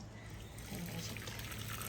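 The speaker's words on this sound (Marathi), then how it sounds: "दुसऱ्यांदा सुद्धा पाणी मला ह्यांनी याच्यातलं काढून दिलेलं आहे" Water draining off a pot of boiled karande (air potato) in a home kitchen: a steady pouring trickle with a faint hiss, close and continuous.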